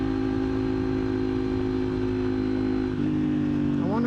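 A motorcycle engine hums steadily while the bike is ridden in track mode, a loud, close, continuous drone with steady tones under wind noise; near the end the pitch sweeps up as the rider accelerates.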